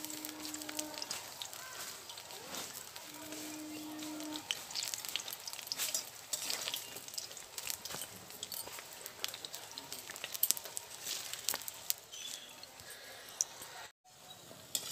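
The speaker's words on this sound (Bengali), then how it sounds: "এবার আমি ছোট ছোট আকারে পকোড়াগুলো ভেজে নেব।" Small radish-greens pakoras frying in mustard oil over low heat, a gentle crackling sizzle with scattered pops and spatters, faint and close, with a short hum early on.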